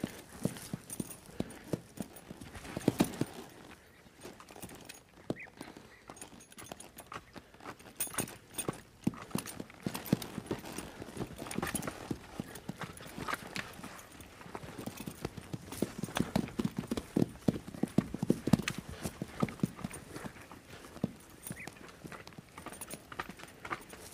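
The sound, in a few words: horse moving, hooves clip-clopping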